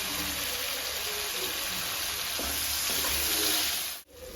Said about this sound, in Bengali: এঁচড়গুলো ভেজে নেব যেগুলো আমি কুকারে একটা সিটি দিয়ে সিদ্ধ করেছি